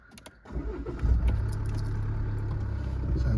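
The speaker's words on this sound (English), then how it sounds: "Start the car up." A Land Rover Discovery Sport 2.2 SD4 diesel cranks briefly after a few faint clicks, then fires and settles into a steady, close idle hum.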